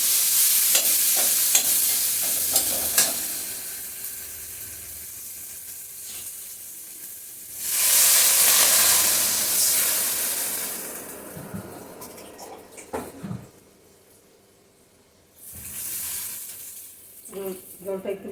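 Water poured into a pan of fried potato masala with coconut flowers, bringing loud bursts of hissing sizzle that surge and fade, with softer bubbling and spoon clinks between the waves, close by.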